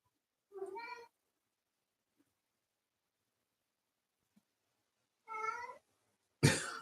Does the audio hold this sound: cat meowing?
yes